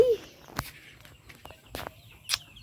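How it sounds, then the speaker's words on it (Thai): Chicks cluck outdoors in a few faint, scattered peeps and clucks. Soft rustling and footsteps sound nearby. "ลูกไก่"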